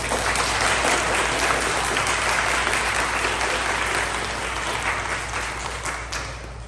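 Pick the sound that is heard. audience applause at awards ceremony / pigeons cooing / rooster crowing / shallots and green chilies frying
audience applause at awards ceremony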